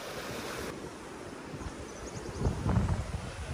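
Rushing water from the top of the K50 waterfall, a steady broadband roar with wind buffeting, swelling louder near the end, no talk.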